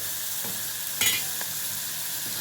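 Ingredients fry in hot oil, giving a dense, steady close-up sizzle with a brief louder burst of stirring partway through.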